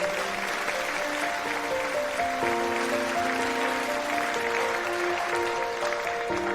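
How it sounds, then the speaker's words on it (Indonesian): Applause from an audience for a studio's design team at a stage presentation, a soft, even wash of clapping held beneath sustained musical tones, fairly distant and steady throughout. "mari beri tepuk tangan meriah untuk Wakil Studio Bintang"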